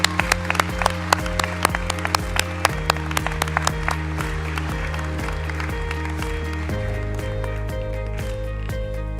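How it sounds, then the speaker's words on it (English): A graduation ceremony audience claps steadily throughout, with music underneath and a few sharp claps standing out up front. "Give yourself a big round of applause."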